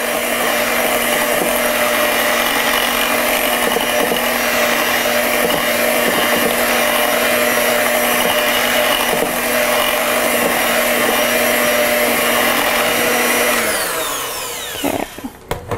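An electric hand mixer whirs steadily at close range as it beats cheesecake batter, a constant motor whine that winds down and stops near the end with a few clatters of the beaters.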